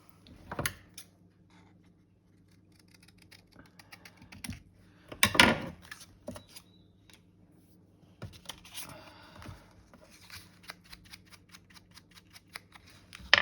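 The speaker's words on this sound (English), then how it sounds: "We'll put that at the top so it gets cut off where it needs to be cut off." Scissors cut paper for a pocket album junk journal in a few sharp, close snips and crisp cutting bursts, separated by quiet gaps with light handling rustles.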